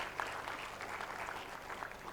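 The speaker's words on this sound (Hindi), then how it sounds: "उनके लिए हम जोर से एक ताली बजा सकते हैं" Audience applause at an inaugural panel event, a modest round of clapping with distinct hand claps, fairly faint and heard from across the room without talk.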